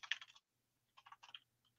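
Computer keyboard typing while a coding session is underway, two quiet bursts of rapid keystrokes separated by a short pause, close and soft with no talking.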